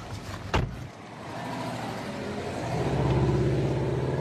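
A Subaru gendarmerie car braking hard on a driving course: a brief sharp skid chirp, then the engine droning and rising as the car pulls away, heard close by.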